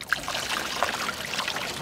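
Seawater trickles and splashes as samples are drawn from the open sea near a deep-water sewage outfall, a soft uneven pouring with small drips and no talk.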